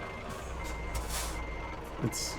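A truck backs up in Euro Truck Simulator 2, its engine idling low and steady with faint high reversing beeps and a brief hiss of air brakes, heard fairly quietly throughout.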